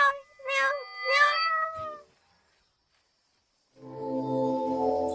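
A cat gives two or three clear, drawn-out meows close by, then falls silent before a low, droning, wavering cry rises and continues.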